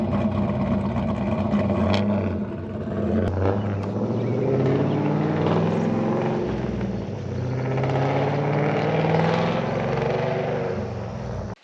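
A Camaro SS with a freshly replaced clutch accelerates hard on a test pull, its engine a loud continuous rumbling roar with rising then falling pitch as it climbs through the revs and shifts, alone without talk.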